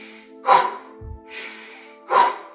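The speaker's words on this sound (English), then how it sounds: "We're gonna breathe in the nose and out the mouth." Quick breaths drawn in through the nose and pushed out through the mouth during a guided morning breathing routine, heard as three close, airy rushes alone in quiet.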